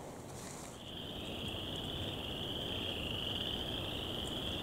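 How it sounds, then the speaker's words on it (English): Spring peeper frogs calling in early March near a primitive campground at Salamonie River State Forest, a dense, steady high-pitched chorus of peeps that holds continuously throughout, moderately near, with no talking. "Listen to those spring peepers."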